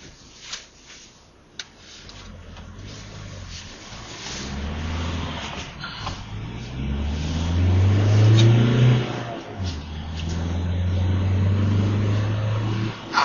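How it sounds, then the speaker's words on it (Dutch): A new Volkswagen Transporter van drives and accelerates on the road, its engine note rising and swelling steadily from a low hum to a fuller, louder drone, heard alone at close range. "ik ga vandaag de nieuwe Volkswagen Transporter testen"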